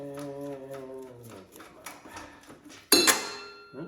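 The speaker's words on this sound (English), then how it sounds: "I dropped the bolt and it stuck right to the pan" A metal bolt dropped during snow thrower bushing repair lands with one sharp, ringing clank on a metal pan, preceded by quieter mechanical tapping and clicks, close and with no talking.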